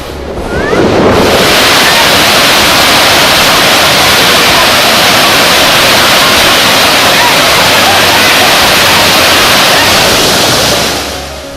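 Water pours heavily at Hogenakkal waterfall's main falls, a loud, dense, continuous roar that fades in and out at the edges with no other sounds standing out.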